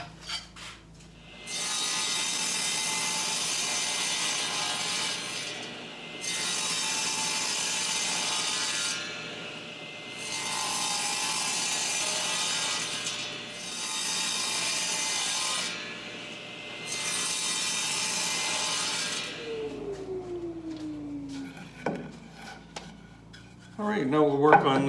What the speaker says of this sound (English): So I'm going to cut these where the marks are.